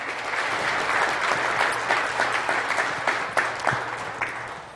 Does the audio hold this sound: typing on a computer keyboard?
no